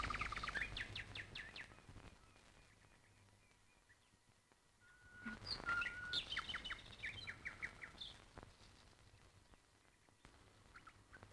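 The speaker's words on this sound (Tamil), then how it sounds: "இங்க இருந்தா பறவைங்க பறக்கிறது, அதுங்க கத்துறது அதெல்லாம் பாத்துக்கிட்டே சாப்பிட்டா" Birds chirp and call in bright, intermittent bursts, with a lively cluster in the middle and scattered tweets before and after. The calls sound moderately close against a quiet outdoor background, with no talking.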